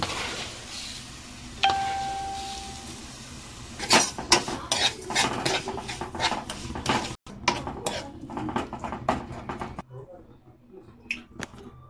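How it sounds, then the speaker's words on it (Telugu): Bottle gourd cooks down for a sweet halwa in a pan, with busy clinking and scraping of a utensil stirring against the metal over a soft sizzle, the strokes rapid and irregular. "ఆనపకాయ కొంచెం బాగా వేగనివ్వాలి"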